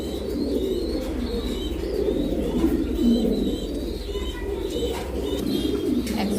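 A pair of king pigeons coo softly and repeatedly at close range, their low rolling calls layered over a steady background murmur, with faint chirps from other birds around.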